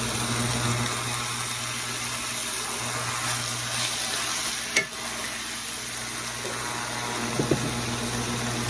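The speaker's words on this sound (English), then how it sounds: "I'm going to let our cabbage cook down. To it, we're also adding onions," Cabbage, onions, garlic and fresh ginger cook down in a pan with a low, continuous sizzle. A couple of sharp clinks of utensil on pan break through it.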